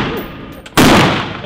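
A single loud, close SCAR combat assault rifle shot cracks out on an outdoor shooting range, with a sharp broadband burst that rings and decays over about a second.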